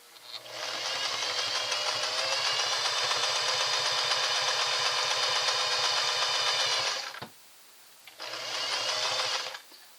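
A Singer 403A sewing machine runs double-needle stitching in a long, fast, steady mechanical chatter of about six seconds. After a brief pause, a shorter burst of stitching follows.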